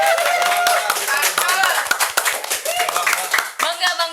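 A few people clap their hands in quick, uneven bursts during a podcast chat, with voices talking and laughing over the clapping.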